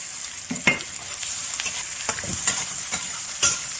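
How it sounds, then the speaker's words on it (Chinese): Cured pork (larou) stir-fried in hot oil in a wok, a steady close sizzle broken by repeated sharp scraping strokes of the spatula at an irregular rhythm. "先加入腊肉炒一下，把腊肉煸出油脂出来"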